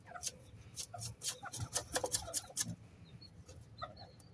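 Cocoa-coloured bantam chickens from an Ayutthaya farm cluck in a rapid run of sharp, close clucks and squawks, then settle into quieter scattered calls.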